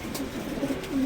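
Pigeons in a loft coo softly and repeatedly, a low murmuring burble that continues throughout at moderate loudness, with no voices.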